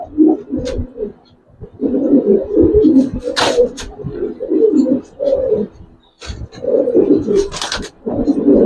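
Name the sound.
Giribaz pigeons cooing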